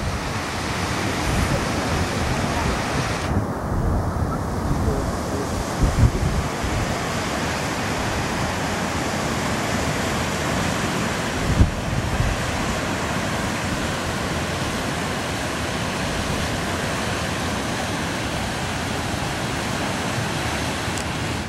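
Strong wind roars across a beach at Port Stanley, Ontario, with surf breaking behind it, making a loud, dense, continuous wash with occasional gusty bumps and no voices.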